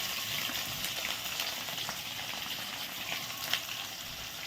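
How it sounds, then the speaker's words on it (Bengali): Chopped onion and garlic fry in oil in a wok, giving a soft, even, steady sizzle that runs unbroken and fairly quiet, with a slight stirring scrape near the end. "রসুনটা একটু ভেজে তারপর দিয়ে দিচ্ছি পেঁয়াজ কুচি"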